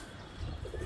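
A brief, low coo from a paired cock and hen pigeon kept for flying competitions, soft and close, rising out of quiet background noise.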